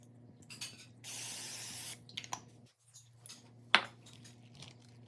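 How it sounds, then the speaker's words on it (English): One short hissing burst of non-stick cooking spray onto a plate, close and about a second long, surrounded by light clinks and handling sounds over a faint hum. "Non-stick spray."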